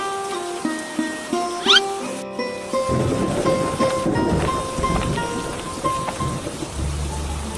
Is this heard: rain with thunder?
yes